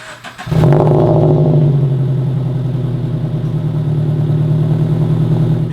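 A Toyota/Subaru FRS engine turns over and settles into a steady, low, even idle with a muted exhaust rumble after being made quieter, close by and constant for several seconds.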